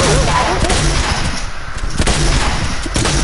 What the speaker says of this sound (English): I cut you with a shotgun, cuz.